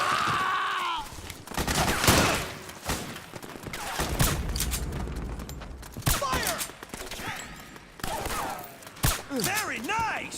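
Gunfire in the PS3 game Metal Gear Solid 4: Guns of the Patriots, with loud bursts of automatic fire and shots in repeated volleys, mixed with soldiers shouting and game effects.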